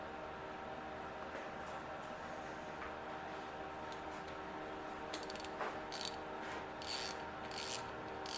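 Quiet, rapid clicking of a ratchet with a 10mm socket tightening a bolt on a 2013 5.7L HEMI engine, a steady stream of small clicks with a few louder ticks near the end.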